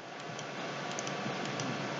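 Typing an email address on a computer keyboard, a steady run of soft, quick key clicks heard close up and alone under a faint background hiss.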